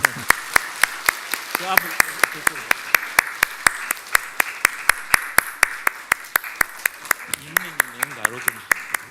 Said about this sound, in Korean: 박수 열심히 좀 칩시다